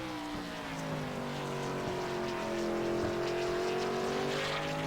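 Stock car engines roar in a sim racing game at Motegi, a loud sustained engine drone with a clear rising pitch as the car accelerates hard out of a chicane onto the front stretch.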